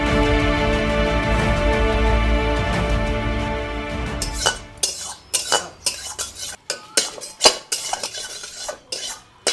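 Loud, irregular clattering of metal pots and utensils, clanks and scrapes coming in quick bursts after a steady background hum fades out.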